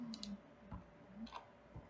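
A computer mouse clicks during a fashion CAD drawing lesson, with a handful of small, quiet clicks spaced irregularly over a faint room hum, close and isolated, with no voices.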